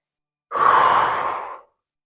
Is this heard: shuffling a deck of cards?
no